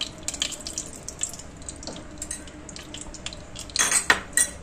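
While murighonto is cooked with a katla fish head, oil goes into the pan as pots and utensils clatter. Metallic clinks and scrapes come at an uneven pace, quiet at first, then a louder burst of clanking near the end.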